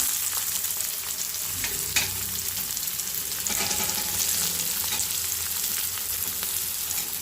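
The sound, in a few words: onion frying in oil with mustard seeds and cumin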